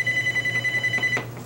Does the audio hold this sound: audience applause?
no